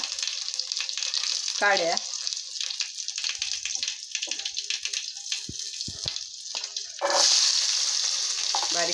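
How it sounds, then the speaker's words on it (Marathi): Cumin and mustard seeds crackle and sizzle in hot oil, a steady close frying hiss with a louder burst of spitting near the end, while a voice briefly speaks over it. "तेल गरम झालेलं आहे। आता मी त्यात जिरा आणि राई घालणार आहे।"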